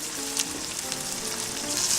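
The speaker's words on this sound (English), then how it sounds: "hot oil over medium-high heat, and I'm just lowering my braciolette into this" Steady sizzling and crackling of stuffed meat rolls frying in hot oil over medium-high heat, close up, with occasional sharper pops over a constant hiss.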